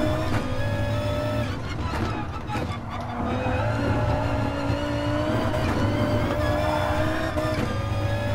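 A rally car races in the GT Sport video game, its engine droning and revving steadily throughout with shifting pitch and brief dips, loud and close, while a voice talks over it.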